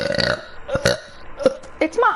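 A woman's burp opens the moment, followed by bursts of speech and laughter-like vocal sounds mixed with short clicks and thumps.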